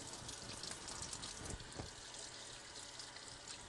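Running water from a tap rinsing a sticky gadget with a little soap, a steady soft gush and splatter, faint and continuous with a couple of brief splashes in the middle.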